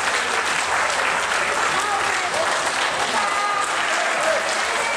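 A large audience at a 2018 strongman competition in Puumala applauds and cheers a lift, a dense, steady wash of clapping and crowd noise that holds at full strength for the whole stretch.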